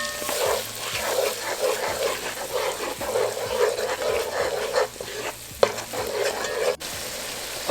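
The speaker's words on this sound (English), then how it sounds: "you want to saute that as well, only for about 3 more seconds" Peppers sizzle and fry steadily in a hot pan while being stirred, with scraping clatters of a utensil against the pan around the middle and a sharp knock near the end; no talking.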